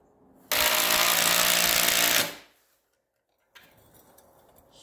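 A power drill drives a screw into a wall while installing a Linear LDCO850, one loud sustained burst of motor whir lasting under two seconds that winds down, followed by silence and faint handling noise.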